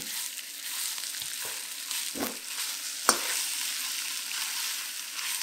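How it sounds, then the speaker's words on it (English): Beef frying in hot oil in a pan for Mongolian beef gives a steady, loud sizzle throughout, with a few brief low thumps and one sharp clack as the meat is moved. "When the oil is hot, fry the beef."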